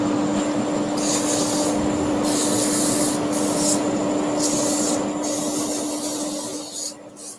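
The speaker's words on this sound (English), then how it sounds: "I'm just going up a grade now of abrasive, 240, 400. With a little bit more sanding." Abrasive sanding on spinning wood on a woodturning lathe, moving up through 240 and 400 grit: a steady close rubbing hiss over a constant motor hum, swelling in repeated strokes about once a second before easing off at the end.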